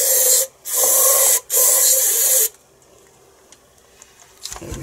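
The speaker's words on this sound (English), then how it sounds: "And I simply spray some in here," Brake cleaner sprays in three long hissing bursts with short gaps into a Stihl MS180 chainsaw that is not oiling correctly, loud and close, followed by quiet handling noises.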